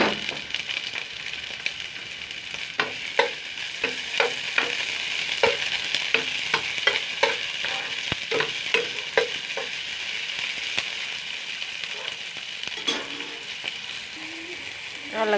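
Tomatoes sizzling in a frying pan while being stirred for sinigang na tuyo, continuous bright frying hiss punctuated by repeated close scraping and clacking of a utensil against the pan.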